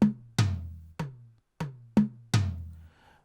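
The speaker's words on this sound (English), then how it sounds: "we have what we call the toms" Afro house tom drum samples programmed in FL Studio: six clean, punchy hits with deep decaying bodies, spaced in an uneven rhythm and played alone.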